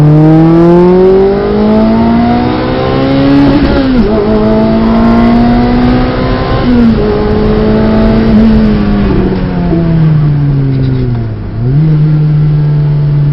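A 2005 Lotus Elise engine roars loudly from inside the cabin, revving up steadily through several gear shifts with brief dips between pulls.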